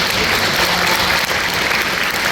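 Loud, dense applause from a school concert audience after a middle and high school band piece, a continuous wash of clapping throughout with no speech.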